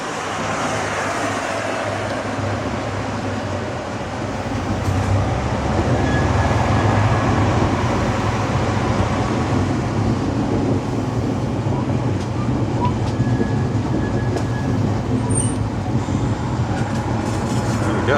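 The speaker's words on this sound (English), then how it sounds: "Nice sunny autumn day for a little train ride." A heritage train running on the Yorkshire Wolds Railway on a sunny autumn day gives a steady, loud rolling rumble with a faint rhythmic clatter of wheels that carries on without a break. No voices are heard.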